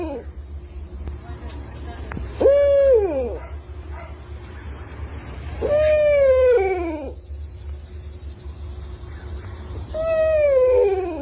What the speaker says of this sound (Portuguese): ao ouvir esse assobio perturbador